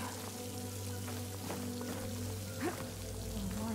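Waterfall in Horizon Forbidden West produces a faint, steady pouring rush of water, with soft game tones and a few light splashes mixed in.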